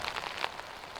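Rain falls outdoors during a disc golf round in Oregon, a steady soft patter of drops on surfaces, faint and continuous throughout.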